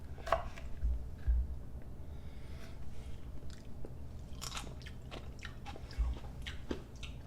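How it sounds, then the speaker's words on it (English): A little red jalapeno pepper is bitten into and chewed up close, with a couple of firm crunches at the start followed by quieter, irregular mastication sounds. "Let's see what this little red jalapeno tastes like."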